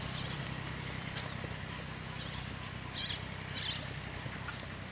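Hooves of a Lusitano stallion clip-clop at a slow walking pace over a faint outdoor background, with a couple of short chirps in the middle.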